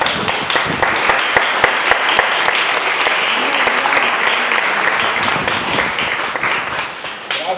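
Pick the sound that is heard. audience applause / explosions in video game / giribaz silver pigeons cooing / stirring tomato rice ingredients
audience applause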